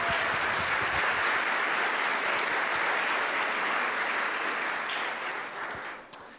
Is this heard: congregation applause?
yes